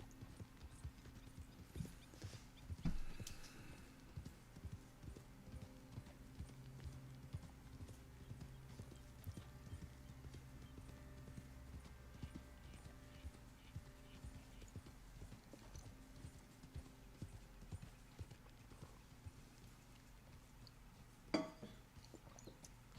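Hooves of a thoroughbred horse clip-clopping in a steady, even rhythm as it is ridden up and down at a horse show, faint and somewhat distant, with a brief whinny-like accent and a couple of sharper knocks.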